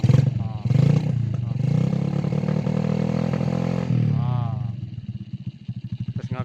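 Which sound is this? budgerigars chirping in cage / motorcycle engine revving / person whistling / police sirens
motorcycle engine revving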